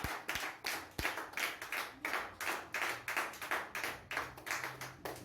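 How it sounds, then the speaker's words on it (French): A congregation claps in steady rhythmic unison at a Christmas-season church service, loud, even beats repeating about twice per second throughout with no talk. "If there is joy, you can clap for the Lord."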